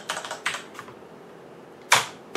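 Password being typed on a computer keyboard to set up a Raspberry Pi, a few quick bursts of close key clicks separated by pauses, ending with a sharp keystroke.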